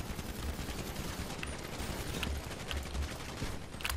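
Rapid gunfire in a shooting video game with pistols, dense bursts of shots continuing without pause under faint background noise.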